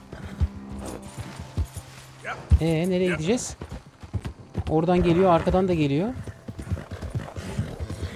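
Horse hooves galloping in the Red Dead Redemption 2 video game, a steady beat running under two players talking, with whinny-like tonal calls in the middle.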